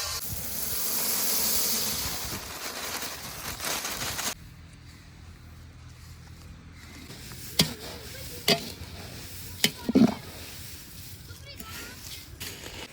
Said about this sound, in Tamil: பொரிய லைட்டா வறுத்துக்குவோம்.